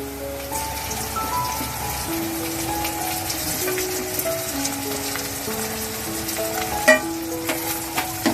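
Tomatoes added to browned onions frying in a pan for a spicy dried bombil fish curry, a steady loud sizzle and crackle throughout with some stirring clatter, while soft music plays in the background.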